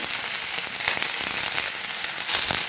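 Sliced ridge gourd hits hot oil in a pan for a vegetarian Bengali dish, giving a loud, steady, close crackling sizzle throughout with occasional sharper pops, no talk.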